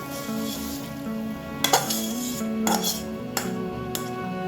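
Fried spiced masala is stirred into boiled khichuri in a pan, giving a continuous soft sizzle with scraping spoon strokes and a few sharper clinks against the metal.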